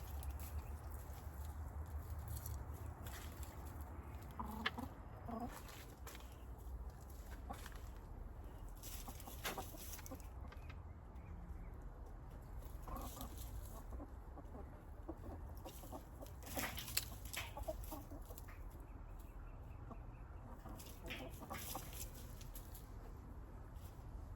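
Chickens cluck softly and intermittently at close range amid faint rustling and scratching, quiet overall with no talking.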